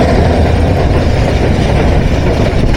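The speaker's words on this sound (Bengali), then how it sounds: "আন্তনগর যমুনা এক্সপ্রেস" Intercity Jamuna Express train engine at the outer of Tongi railway junction in the evening, a steady loud rumble of heavy machinery throughout.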